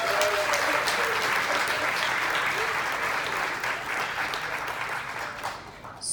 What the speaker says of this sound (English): so we can give them a nice little round of applause as well